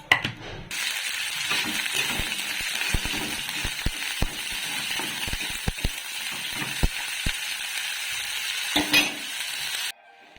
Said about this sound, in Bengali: আর একটু সবজিগুলো আগে ভেজে নিই